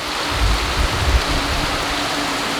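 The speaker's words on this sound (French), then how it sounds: "Il pleut beaucoup trop." Heavy rainy-season downpour in Costa Rica, a steady, loud hiss of rain with low rumbling patter beneath it and no voices.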